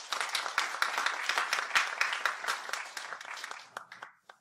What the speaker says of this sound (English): let's welcome Jacko with a big round of applause.